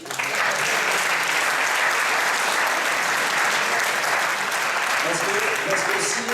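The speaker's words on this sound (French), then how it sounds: "je voudrais faire un applaudissement à..." An audience at a round table for award winners and entrepreneurs claps in a loud, dense, even burst that lasts the whole stretch and starts to fade right at the end.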